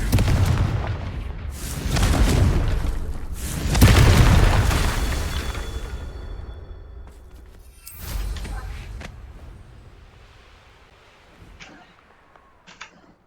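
A Confringo fire spell blasts in the video game Hogwarts Legacy, several loud booming explosions with rumbling tails a few seconds apart, the last ones weaker and fading into quieter rumble.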